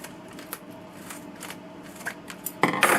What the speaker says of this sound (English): take my utility knife, or you can take the cutter, and you want to cut off that bottom piece off the bottom